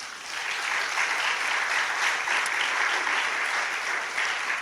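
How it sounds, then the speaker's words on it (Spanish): A church congregation claps during a sermon, a steady wash of many hands applauding at moderate volume for several seconds. "¿No le dan un aplauso al Señor?"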